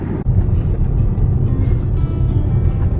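A car pulling up at Black Sand Beach, a loud, close, steady low engine and road rumble with wind buffeting and no talk.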